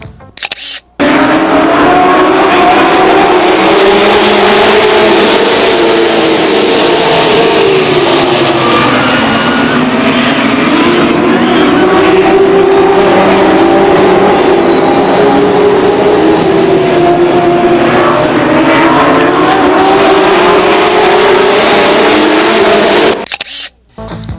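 Late model race cars roar around Lake Geneva Raceway in 1993, a loud, continuous engine drone that rises and falls as the pack circles, with no break for the whole stretch.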